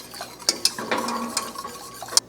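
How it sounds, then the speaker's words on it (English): Whisk clattering against a pan as coconut sugar is worked into a miso sauce, several sharp metallic ticks over a soft simmer, close and without talk. "I'm going to whisk this in."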